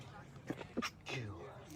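A quick sneeze bursts out, followed by a short breathy sound, fairly close and moderately loud, with a voice starting up right after.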